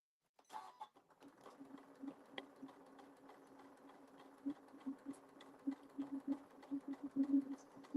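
Sewing machine running a quarter-inch seam across the top of a fabric gift card bag, a soft rapid whirring that speeds up into dense clattering bursts toward the end, fairly quiet and close.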